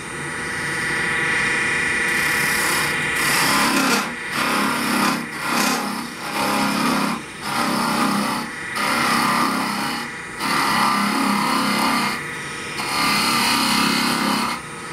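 A woodturning tool hollows a large wooden globe Christmas ornament on a lathe, making a loud, rough buzzing chatter that starts and stops in repeated bursts of a second or two, with brief pauses between cuts.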